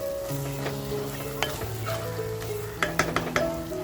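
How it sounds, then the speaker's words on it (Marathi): Dry spices sizzle and fry in oil inside a clay pot while being stirred, a constant close crackle with occasional scraping and clinking of the spoon. "हे सुद्धा आपल्याला छान असे परतवून घ्यायचे अगदी तेल सुटेपर्यंत"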